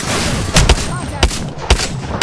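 Gunfire in an online shooter game comes as several loud, sharp bursts spaced irregularly, a double shot then single cracks, over steady background game noise.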